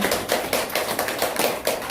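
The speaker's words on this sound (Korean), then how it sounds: "저분에게 다시 한번 박수 한번 드리겠습니다" Audience applause in a seminar hall, a steady wash of many hands clapping close and fairly loud, with faint pulsing swells and no talk over it.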